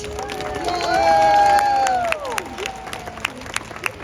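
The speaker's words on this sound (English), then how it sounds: "Everyone give a big round of applause to 30-year-old Keet." SeaWorld San Diego orca show audience applauding and cheering for the 30-year-old killer whale Keet, a crowd roar that swells and holds loud, then thins into scattered claps as a voice carries over it.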